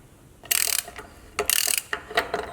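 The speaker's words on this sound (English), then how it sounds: "I'll be taking my socket just gonna go ahead and start tightening it up just till it gets snug" A socket ratchet tightens a bolt on a Dana 60 axle for a 1979 Cherokee Chief, with three close bursts of rapid clicking separated by short pauses.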